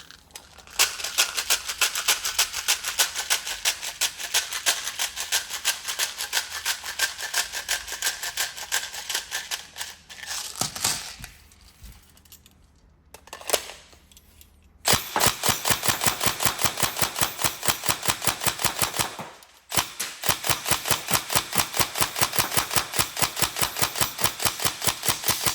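Tokyo Marui 416D DMR NGRS airsoft rifle with a brushless motor firing, rapid sharp mechanical clicks in long runs broken by short pauses, close and unaccompanied by voices.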